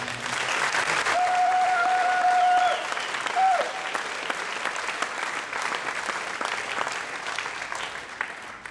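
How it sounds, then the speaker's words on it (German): A festival audience in Moers applauds warmly, a loud, sustained dense clapping crowd that stays full throughout, with a brief tonal whistle or feedback tone sounding over it early on. "Diesen Applaus, Kerstin Eckstein"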